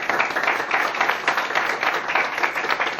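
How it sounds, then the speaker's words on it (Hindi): Loud, dense applause from a seminar audience at a motivational talk, steady rapid clapping filling the whole stretch with no speech over it. "तो अपने सवासी के लिए जोरदार तालियां होगा।"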